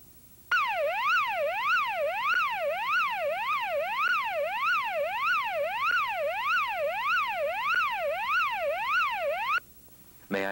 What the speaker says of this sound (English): The automatic fire alarm system has been activated onto the 10th floor.